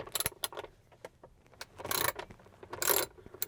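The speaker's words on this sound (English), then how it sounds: "So we'll go ahead and use our wrench here and break those." Wrench working 10mm bolts on a Cybertruck screen mount, a series of sharp metallic ratcheting clicks and clanks in irregular bursts, close and fairly loud with no talking.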